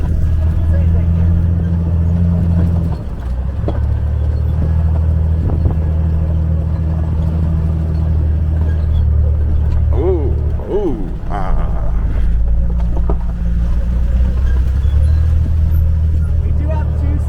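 An off-road Jeep tour vehicle bouncing along a rough trail, with a steady low engine rumble and jolting knocks throughout, while a person talks over it.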